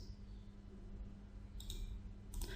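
Mouse clicks on a computer during network setup, a couple of short, faint taps near the end of a quiet stretch with a low steady hum behind them.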